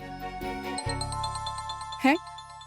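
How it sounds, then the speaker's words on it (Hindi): A phone rings with an incoming call, a bright tinkling tone over a steady drone with a sharper chime near the end. "रमशा की सास की कॉल आ गई"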